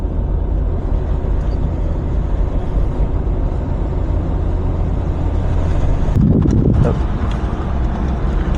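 A car rolls along a road beside an active wildfire near Saluda, North Carolina, giving a steady broadband road and wind rumble close to the mic, with a louder burst of rumble and thumps near the end.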